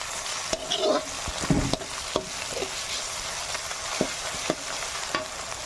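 Ginger and garlic fry with onion in a pan, a soft steady sizzle broken by scattered clicks and scrapes as a utensil stirs, close and fairly quiet.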